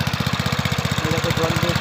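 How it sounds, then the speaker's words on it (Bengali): An engine-driven pump runs beside a dry field, a close, loud, rapidly thumping single-cylinder chug with an even, fast beat. "দেখো বন্ধু, দেখো মেশিন চালানো হচ্ছে"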